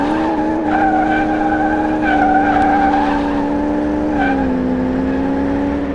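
Sustained, loud tire squeal from the W12-engined Satsuma in the driving game My Summer Car, a steady high-pitched screech running the full length with a slight dip in pitch near the end, engine droning underneath.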